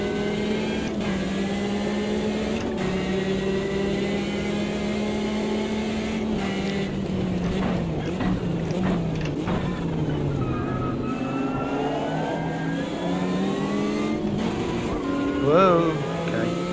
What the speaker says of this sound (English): Short shifted to third, why not? Down to second.